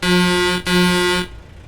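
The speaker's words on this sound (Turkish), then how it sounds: "Renault'un havalı kornası bu. Ama oyunun kendi kornası." Old-style horn on a Renault truck in a truck simulator game: two loud, steady, tonal blasts, the first about half a second and the second slightly longer, separated by a tiny gap, then cut off.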